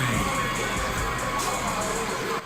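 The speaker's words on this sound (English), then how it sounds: "Showtime getting the crowd going here tonight in Baton Rouge" A wrestling crowd in Baton Rouge cheers loudly as a wrestler makes his entrance to the ring. Dense, steady shouting and whooping fills the short moment before dropping off at the end.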